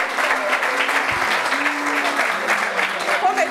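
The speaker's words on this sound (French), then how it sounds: "Applaudissements pour elle." Applause from a live audience during a French-language talk show discussion about marriage and close friendships, a steady wash of clapping lasting throughout with some voices mixed in.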